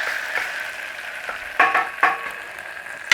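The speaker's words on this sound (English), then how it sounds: "Give it a little cooking in that olive oil with that garlic" Tomato paste frying in olive oil with garlic, a steady close sizzle with a few sharper bursts of crackle as it is stirred in the pan, no talking.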